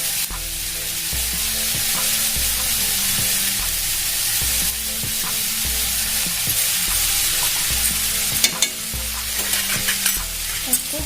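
Kashmiri chili, turmeric and meat masala are stirred as they fry in a pan for chowmein: a loud, continuous sizzle broken by scraping stirring strokes, with music playing underneath and no voices.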